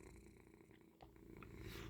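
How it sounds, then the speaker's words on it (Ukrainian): An injured cat purrs softly and steadily after being stroked, a faint low rhythmic rumble heard close up. "Ми його зразу погладили, він почав мурчати."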